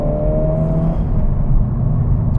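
A Honda Civic Type R FL5 drives along with a steady, loud engine drone and low road rumble, heard close and continuous from inside the car without speech.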